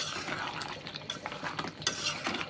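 A spoon works goat mutton and fried potatoes around a pot, giving soft scraping and clinking stirs with a light sizzle. The sounds are quiet and irregular, with a few sharper metallic knocks.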